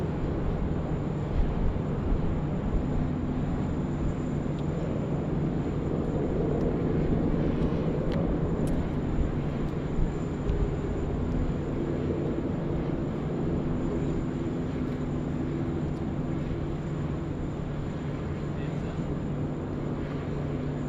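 Aircraft rumble at Sydney Airport at night, a steady low engine roar that holds for the whole stretch at a moderate distance, with voices talking faintly underneath.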